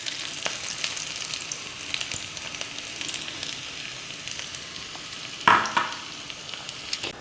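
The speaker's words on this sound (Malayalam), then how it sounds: "വെളിച്ചെണ്ണ ചൂടായിട്ട് വരുമ്പോൾ നമ്മൾ അതിലേക്ക് ഒരു 5-6 ചെറിയ ഉള്ളി ചെറുതായിട്ട് അരിഞ്ഞതാണ് കേട്ടോ" Chopped shallots fry in hot coconut oil. A steady crackling sizzle carries throughout, and a sharper, louder burst near the end sounds like a fresh spatter or stir.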